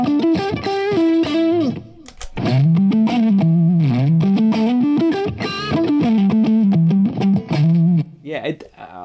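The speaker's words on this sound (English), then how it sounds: "I'm using Tube Screamer and Forest Green Compressor together to get a different type of overdrive distortion." An electric guitar driven through a Tube Screamer and a Forest Green Compressor pedal together gives a thick overdriven tone, playing sustained notes and sliding melodic phrases, loud and close.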